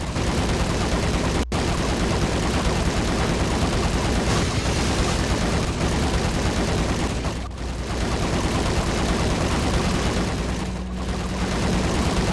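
An enemy in Max Payne fires steadily at the player, a relentless, loud stream of gunfire lasting the whole stretch with a sharp crack near the start.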